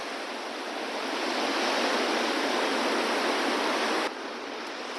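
The Mandakini river rushes over stones in a loud, unbroken roar of white water heard close by, dipping slightly near the end; no speech.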